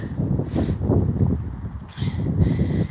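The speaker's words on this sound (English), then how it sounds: "Can you only hear the wind?" Heavy, gusty rumbling of wind buffeting a microphone, low and blustery, with surging bursts throughout.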